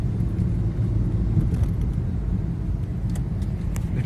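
Inside a moving car, a steady low road rumble and engine drone fill the cabin continuously, with faint rattles and small knocks on top and no one speaking.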